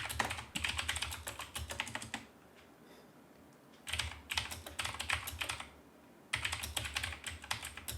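Someone types a password on a computer keyboard in short bursts of quick, close key clicks separated by brief pauses, quiet and with no talking.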